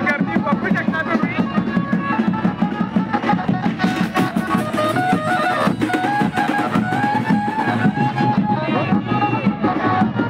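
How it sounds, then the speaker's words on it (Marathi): Dense crowd at a Hanuman Jayanti village fair in Gaurapur, a loud continuous outdoor hubbub of many voices with music-like tones and commotion mixed in, sustained throughout. "खूप सारी गर्दी बघू शकता तुम्ही."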